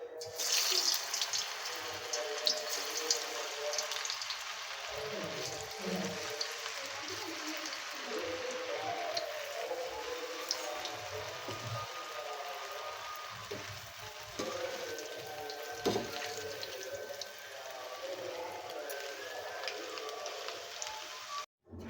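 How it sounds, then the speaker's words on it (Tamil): Snake gourd chilli fries in hot oil on a tawa, giving a steady crackling, rain-like sizzle at moderate volume that runs throughout, with faint background noise. "ஒரு தவா எடுத்து நம்ம எண்ணெய் ஊற்றி எண்ணெய் காஞ்சிச்சு. நம்ம சில்லி போட போகிறோம்."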